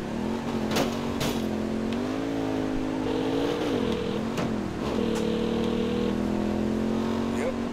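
A motorcycle engine in the Saints Row video game, played on Xbox Series X, hums and revs continuously, its pitch rising and dipping repeatedly as the throttle changes, at moderate loudness.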